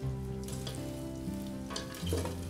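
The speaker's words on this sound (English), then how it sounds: "Shallots go in there. We're gonna sweat them, no color." Shallots sweating gently in a pan over heat, a soft continuous sizzle close by with a low steady hum underneath, alone and without speech.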